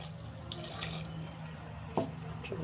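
Water runs steadily into a pot of sirraku leaves with raw mango and a little oil, a soft continuous splashing with a brief clink partway through.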